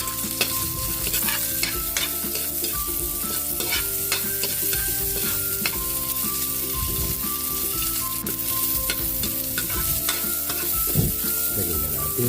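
Garlic and onion frying in a pan while being stirred for ginataang kalabasa: a loud, continuous close-up sizzle with repeated scraping and clattering of the spatula throughout, no voices.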